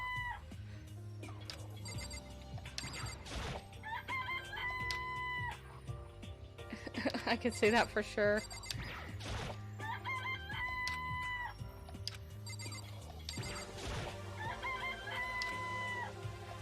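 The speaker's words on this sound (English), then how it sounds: "Why do they make rooster sounds?" Repeated rooster crowing and clucking chicken calls from the video game Danganronpa: Trigger Happy Havoc, several bursts over a backdrop of game music, with a person briefly speaking.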